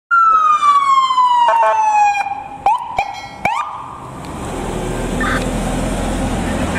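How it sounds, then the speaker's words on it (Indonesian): A toy ambulance siren wails loudly with a descending electronic tone, broken by a few sharp clicks, then fades into a steady hiss. "Mobil ambulan."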